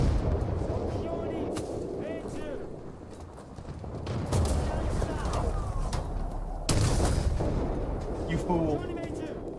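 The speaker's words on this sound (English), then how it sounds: "I would appreciate no artillery fire." Artillery fire in War Thunder lands in heavy booming blasts with rumbling aftermath, several impacts spread through the stretch while someone talks over them.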